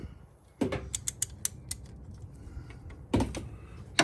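A ratcheting wrench from Harbor Freight works on a brake caliper bolt of a 2008 Chevy Equinox during a brake pad job, giving close, quick bursts of ratchet clicks separated by pauses.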